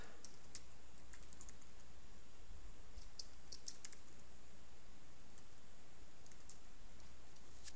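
Quiet, continuous typing on a computer keyboard, with rapid keystroke clicks in uneven bursts over a low background hiss and no voices.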